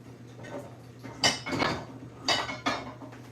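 Metal baking pans for bread dough are handled and set out on a counter, giving a few sharp clanks and scraping clatters close by in bursts, with quieter handling sounds between and no talk.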